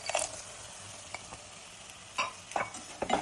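Laddu mixture with cardamom powder and nuts being stirred, giving a few brief scraping strokes of a spoon in a pan against a soft background hiss, quiet and close.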